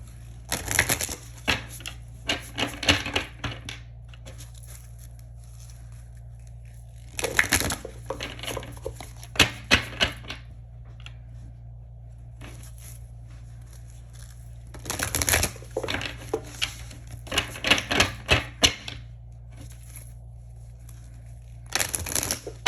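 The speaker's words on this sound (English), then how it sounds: "One more shuffle." Tarot cards are shuffled in three separate bursts of rapid riffling and slapping, close and crisp, with quiet pauses and a low background hum between.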